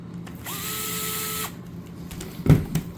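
A power driver runs one steady whir of about a second while driving screws into a motor mount kit, followed by a couple of close knocks as parts are handled.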